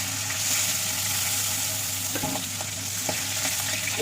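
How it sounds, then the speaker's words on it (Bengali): Bay leaves and whole cumin frying in hot oil in a home kitchen pan, a steady close sizzle with a couple of brief stirring scrapes near the end, with no talk. "এখানে দুটো তেজপাতা দিচ্ছি গোটা জিরে"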